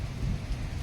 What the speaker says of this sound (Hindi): 3-4 दिन तक लगातार बारिश